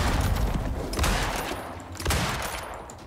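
Shotgun blasts in the survival game Icarus, Styx map during husk extermination: several heavy booming shots at roughly one-second intervals, loud and close, each trailing into a rumble with no talk over them.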